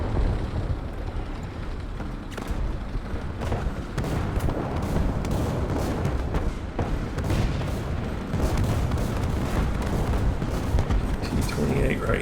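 Artillery strike in War Thunder during a tank battle with a Panzer III Ausf. J1, with repeated heavy blasts and thuds landing at irregular intervals over a constant low battlefield rumble.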